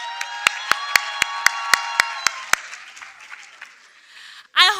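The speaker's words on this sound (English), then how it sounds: "A round of applause for them, please." A conference audience applauds the speakers with loud, sustained clapping and a regular series of sharp clicks, then the applause fades out and a voice begins to speak at the end.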